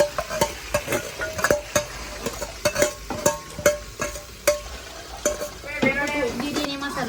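Chopped onion frying for pav bhaji, sizzling in a hot pan while a ladle scrapes and stirs in quick irregular strokes, close and fairly loud, with a brief metallic clatter near the end.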